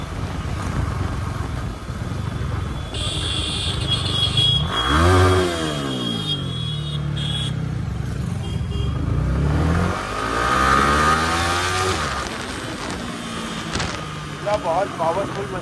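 A powerful motorcycle fitted with an aftermarket exhaust revs hard several times, the engine note sweeping up and down in loud, close bursts, with someone talking over parts of it.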